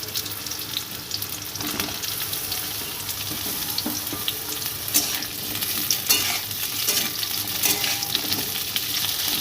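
Pointed gourd and potato pieces frying and being stirred in a pan, a steady close sizzle with scraping stir strokes throughout, no talking.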